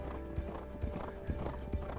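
Hoofbeats of the racehorse Corach Rambler galloping on turf, a regular, rhythmic pounding of strikes about every half second on soft ground, heard close over a steady low rumble of wind and movement.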